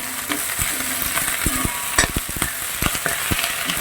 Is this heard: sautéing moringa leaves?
yes